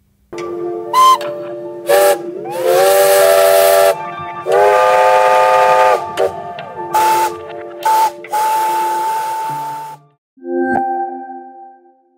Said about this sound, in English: contains 7 steam locomotive whistles from the beginning of last century